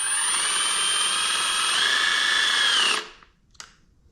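A power drill drives self-tapping roofing screws into wood in a workshop. It gives a loud, steady whine for about three seconds, then winds down, and a short click follows.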